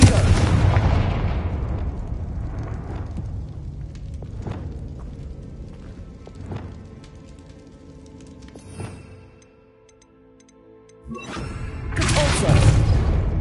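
Confringo explosive spell blasts in the Hogwarts Legacy video game: a loud booming burst at the start, several sharp fainter impacts through the middle, then another heavy roaring explosion near the end.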